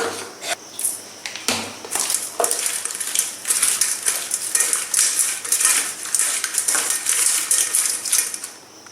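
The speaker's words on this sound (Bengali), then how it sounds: "প্রথমে আমি চিংড়ি মাছটায় লবণ হলুদ মাখিয়ে নেব" Salt and turmeric are worked by hand into tiger prawns in a bowl, giving a close, continuous wet rubbing and squelching with light clinks against the dish.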